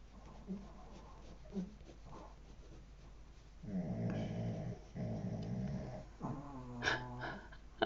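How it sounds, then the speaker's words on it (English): Several dogs make low rumbling snores and soft growling breaths while resting contentedly, in uneven bursts of moderate loudness with brief quiet gaps between them. "Even though the dogs sound very content where they are at the moment."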